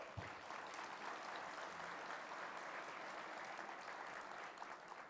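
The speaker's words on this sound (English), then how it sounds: "Please, round of applause." Audience applause at a downtown civic event honoring county officials, a steady, even wash of many hands clapping throughout, fairly distant and uniform with no talk over it.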